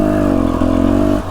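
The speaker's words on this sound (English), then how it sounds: "The hill is straight up if I have to rev this thing up." A dirt bike engine revs hard and steadily at close range on a steep trail hill climb in Idaho, then cuts off abruptly after little more than a second.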